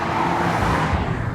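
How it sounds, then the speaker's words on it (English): A Toyota GR Corolla's three-cylinder engine with triple exhaust pipes gives a steady, loud, raspy drone with no talking. "The 3-cylinder is unique and cool. It gives it a unique little sound."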